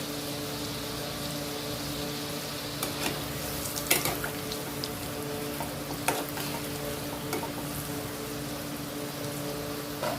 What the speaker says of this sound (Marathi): आणि चांगलं फ्राय करून घेऊ गॅसची फ्लेम मोठीच ठेवायची